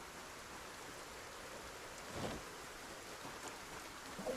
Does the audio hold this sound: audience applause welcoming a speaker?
no